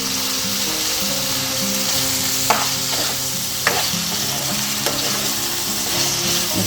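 Raw banana pieces, cut fairly large and salted, stirred in a sizzling pan for a Telugu curry; steady frying hiss throughout with a few sharp scrapes and clacks of the spoon against the pan.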